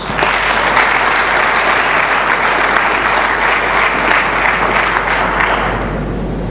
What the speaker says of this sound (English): Bayelsa deserves a round of applause